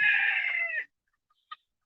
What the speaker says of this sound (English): One of the chickens are in there laying an egg.